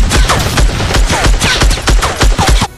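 Animated battle scene with machine gun fire in rapid bursts, loud sharp repeated shots close up, with no voices.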